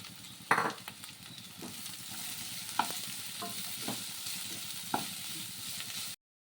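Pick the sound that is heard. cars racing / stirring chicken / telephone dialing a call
stirring chicken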